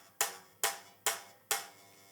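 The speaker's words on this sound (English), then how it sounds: "If you put it too far towards the back, you'll get a buzzing sound like this." Four evenly spaced plucked notes on an electric guitar, each a sharp bright attack with a buzzy, rattling decay from fretting too far back, heard close and alone.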